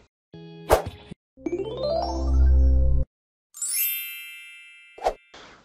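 Several synthetic notification chimes and dings play one after another: a short bright ding, a longer tone sweeping upward over a low hum, a high shimmering chime, then a final quick ding, all crisp and close with silent gaps.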